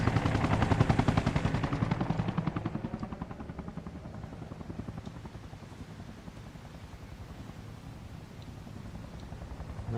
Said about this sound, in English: coming back in a helicopter. A Huey.